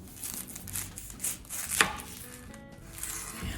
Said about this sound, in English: I love cutting large strips of peppers, and also we'll do the same with our onions.